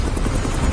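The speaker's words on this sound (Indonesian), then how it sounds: "dibawalah para kandidat yang tersisa dengan 2 buah helikopter" Two military helicopters carry soldiers, giving a loud, steady rotor and engine roar that fills a short moment with no voices.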